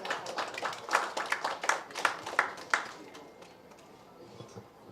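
A short burst of clapping from a small crowd at a music video promo launch, rising to a peak and then thinning out into scattered claps.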